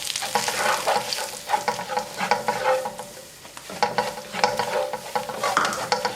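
White flour is roasted in butter in a pan with a close, continuous sizzle and frequent scraping strokes of a spoon or spatula stirring.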